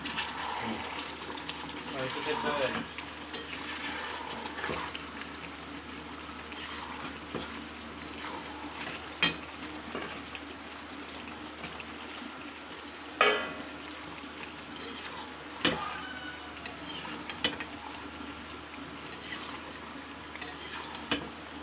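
Potatoes frying in a pan give a steady, close sizzle that runs throughout, with occasional stirring scrapes and utensil clinks against the pan and a voice talking now and then over the cooking.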